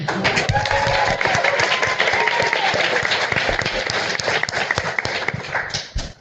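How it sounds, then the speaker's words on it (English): A convention panel audience at Dragoncon gives a loud round of applause, dense clapping with a few sharper individual claps and faint voices mixed in, fading out in the final second. "Round of applause for yourselves"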